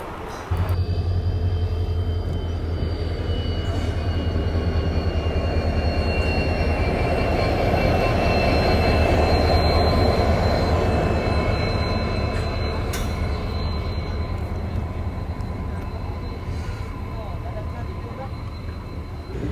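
A train hauled by a WDP-4D diesel locomotive rolls past close by with a steady heavy rumble and rattle, a long horn-like drone and faint wheel squeals above it.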